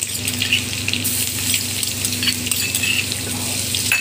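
Garlic fries in hot oil, sizzling and crackling steadily, a continuous close-up frying hiss with no voices.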